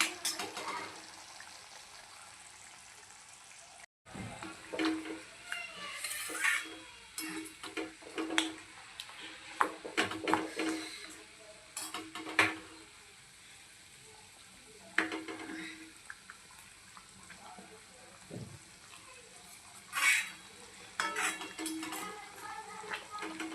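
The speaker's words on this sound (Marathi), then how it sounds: "पाच ते दहा मिनटं आपण याला उकळू देऊया छान" A thick spicy momo chutney simmers in a pan, giving off irregular soft pops and clicking bubbles over a quiet hiss.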